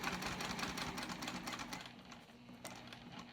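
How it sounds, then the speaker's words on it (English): A sewing machine stitches seams on a Cami crossbody bag, its fast mechanical chatter running steadily, easing off briefly, then resuming with a few sharp clicks near the end. "Stitching across to where I meet up with the second line here, and then stitching down"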